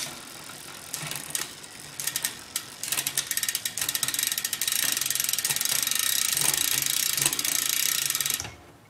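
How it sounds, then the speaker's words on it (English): A road bike chain clicks up the rear cassette as the derailleur shifts, a rapid run of ratcheting, mechanical ticks that grows busier and louder over several seconds and then stops abruptly. "We'll see how it moves up the cassette."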